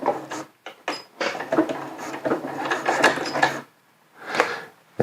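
Sewing machine set to zigzag running lock stitches while sewing rain overmitts, a close whirring motor in short bursts and a longer run, with brief stops between.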